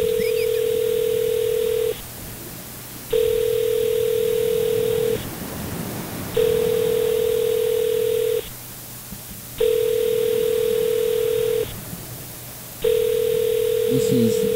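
Telephone ringback while calling a McDonald's restaurant: five even, loud two-second tones separated by short gaps, heard over the line in a steady pattern.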